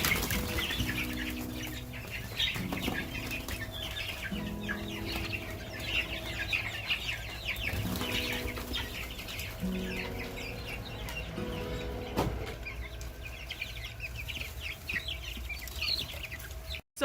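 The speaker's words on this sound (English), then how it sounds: "The birds like frenzy, and it's not like they're actually hungry because we have food out here for them almost 24/7." Cornish Cross meat chickens cluck and squawk continuously in a crowded feeding frenzy, a dense, busy flock chorus close by with occasional wing flaps and no talking.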